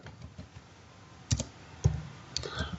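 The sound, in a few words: typing on a computer keyboard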